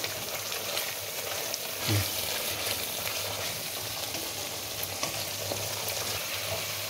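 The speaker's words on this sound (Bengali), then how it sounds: "মশলাটা আমার কষানো হয়ে গেছে" Masala with garam masala fries in a pan for a festive-style curd katla fish dish, a steady close sizzle broken by occasional soft scrapes and taps of a stirring spoon.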